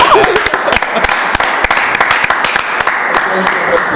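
A crowd applauds steadily and loudly, with dense overlapping claps and sharp individual hits holding at an even level throughout, and a voice faintly beneath.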